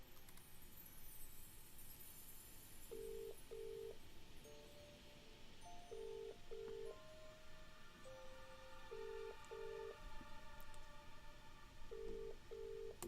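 Phone dialing to call the chief in a point-and-click murder mystery video game: repeated pairs of short electronic beeps in several bursts over a faint steady hiss, fairly quiet, with no talking.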